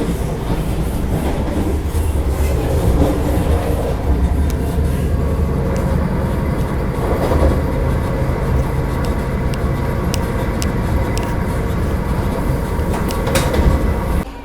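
The Patna–Howrah Vande Bharat Express runs on its rails at speed, heard from inside as a loud, steady rolling roar with rhythmic clickety-clack over the track joints throughout, with no talking.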